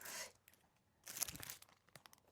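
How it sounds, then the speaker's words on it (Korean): Packaging torn and crinkled open to reveal a course textbook and pen, two short rustling, tearing bursts separated by a pause, close and fairly quiet. "교재를 오픈해 볼게요."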